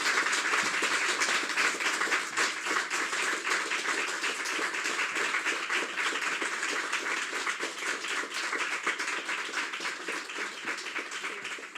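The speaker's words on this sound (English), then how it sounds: "You guys are still clapping for yourselves" An audience at an immigration program announcement in Sudbury claps continuously, a dense, even patter of many hands that stays strong for the whole stretch and tapers slightly at the end.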